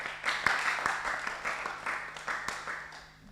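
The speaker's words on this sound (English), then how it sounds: "can you give yourself a round of applause?" A small group of housemates claps for themselves in a round of applause, scattered uneven hand claps in loose bursts, fairly close and modest in volume, tapering off toward the end.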